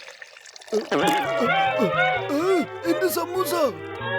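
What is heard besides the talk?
chemical liquid being poured into a jar, cartoon effect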